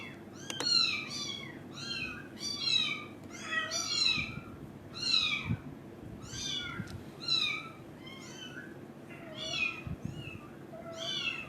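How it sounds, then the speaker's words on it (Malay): A pet cat meows repeatedly in short rising-falling calls, about a dozen in quick rhythmic bursts, fairly close but modest in level over a low background hum, with no talk. "Kucing ustaz pun ikut Taranum juga ke?"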